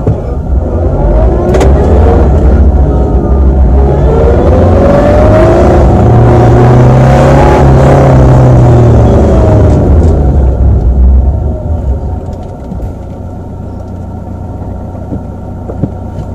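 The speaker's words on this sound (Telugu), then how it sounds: "నేను రివర్స్ గేర్ పోనిస్తున్నాను, మ్యాక్సిమం స్పీడ్లో ఎంత స్పీడ్లో వస్తుందో చూద్దాం." A car in reverse gear strains at maximum speed, its engine whine climbing in pitch for about eleven seconds, then easing off to a lower idle-like hum.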